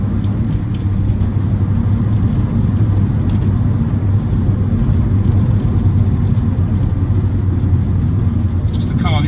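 A MINI Cooper S JCW GP runs steadily with a deep, continuous low engine drone and road rumble from start to finish, fairly loud and unchanging.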